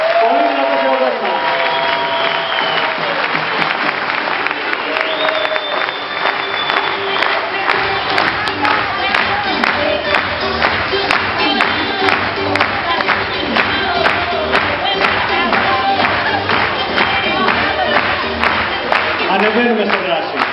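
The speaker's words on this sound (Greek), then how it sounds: "Πολύ δυνατό χειροκρότημα." Loud audience applause fills a hall at a business meeting in Athens, sustained dense clapping with scattered cheers and whoops throughout, mixed with talking and amplified voices.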